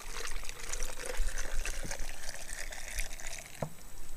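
Seawater poured into a container, mixed about half and half with regular water, for a saltwater aluminum-plate HHO electrolysis setup: a steady close splashing pour runs continuously with a few brief clunks.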